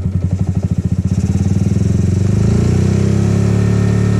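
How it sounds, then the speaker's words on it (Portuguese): A Honda Biz scooter's small single-cylinder engine being warmed up with the choke, starting with a loud uneven pulsing revs that settle into a steady, fast-idling drone close to the microphone. "Aí deixa a moto esquentar, ela mesmo vai baixar o giro."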